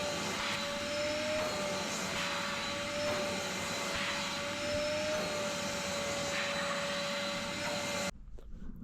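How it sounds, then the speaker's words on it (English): A vacuum cleaner runs steadily and loudly at close range while cleaning a ute's floor mats, its motor whine holding constant with slight rises and dips before cutting off abruptly near the end. "I'll quickly just vacuum these."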